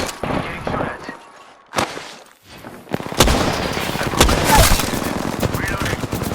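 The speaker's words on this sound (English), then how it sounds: "Getting shot at." Gunfire in the video game Apex Legends, loud rapid bursts of shots in repeated volleys with a brief lull between, close and punchy, with voices heard at times.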